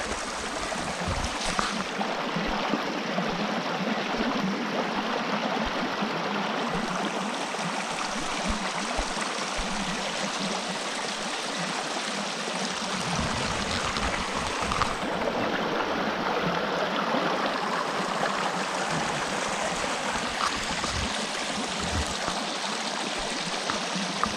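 Steady rushing of a flowing stream, a continuous broadband wash of water over rocks, fairly close and even throughout.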